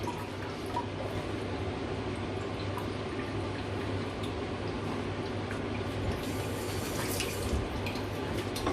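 Tap water runs steadily into a container being rinsed in a kitchen sink, a continuous close splashing rush with small shifts near the end.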